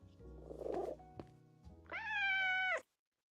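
A cat meows loudly in a Minecraft Monster High review setting, a drawn-out, tonal meow lasting about a second after some softer rustles and a thunk, with no talking over it.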